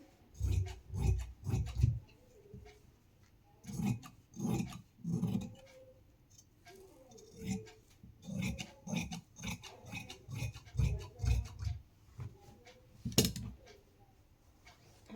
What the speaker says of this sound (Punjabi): ਇਦਾਂ ਆਪਾਂ ਨੇ ਆਪਣੀ ਬੈਲਟ ਦੀ ਕਟਾਈ ਕਰ ਲੈਣੀ ਹੈ